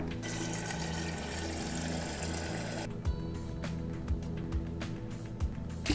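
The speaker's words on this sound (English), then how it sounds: "I always prefer to get my water from the refrigerator because it's filtered" Filtered water runs from a refrigerator door dispenser into a coffee pot in a kitchen, a steady rushing stream under a low motor hum that stops abruptly partway, followed by quiet drips and small clicks.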